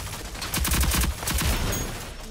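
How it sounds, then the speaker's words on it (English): Gunfire in the shooter game Rogue Company, rapid bursts of automatic shots in two clustered volleys with a brief gap between, fairly quiet and slightly distant. "I'm getting shot from behind."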